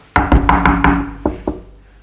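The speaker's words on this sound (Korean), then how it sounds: "불을 켜고 칸 안에 들어가 볼일을 보는데 문 두드리는 소리가 났습니다." Someone knocks on a toilet stall door: a loud, close burst of five quick raps followed by two slower, separate knocks in a quiet, echoing restroom.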